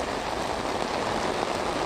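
Steady rain pours outdoors at a Bronx park news scene, a dense, even hiss with no voices in this brief stretch.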